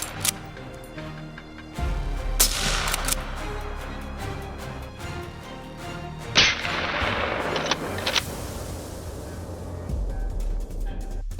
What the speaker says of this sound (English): The moment his prey came into view, rapid gunfire erupted